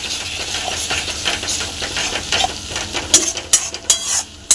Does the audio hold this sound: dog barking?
no